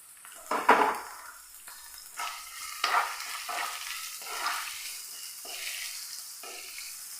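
Small onions with green chillies and curry leaves stirred and sizzling in a pan, light scraping bursts over a steady crackle, close and fairly quiet.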